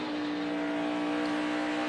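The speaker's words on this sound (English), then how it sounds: "Let's listen to the engine, see if we can hear anything." A NASCAR Sprint Cup race car engine, down on speed, gives a steady droning hum with a strong sustained tone, loud and even throughout with no clear revving.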